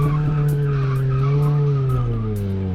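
A car in a handbrake turn on a skid pan gives a loud, continuous tire squeal over a steady engine drone for a few seconds, with no voices.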